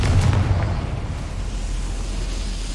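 Confringo explosion spell cast in a Hogwarts video game, a deep booming blast that opens loudly and then trails into a sustained low rumble for a few seconds.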